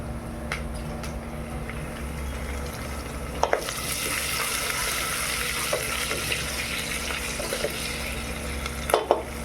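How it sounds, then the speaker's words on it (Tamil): Dried red chillies fry in oil in a pan, giving a continuous close sizzle with soft stirring scrapes and a few sharp clicks of a utensil against the metal. "அதோட கொஞ்சம் காஞ்ச மிளகாய் போட்டுக்கலாம்"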